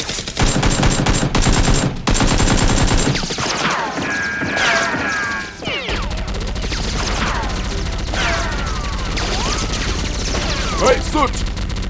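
Nerf blasters fire during a Nerf war in rapid bursts of sharp clacks and pops, dense at first and then more scattered, while people shout and talk over the action.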